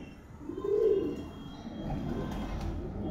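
A Madras pigeon gives a soft, rounded coo near the start, followed by quieter murmuring coos over a low, constant background rumble.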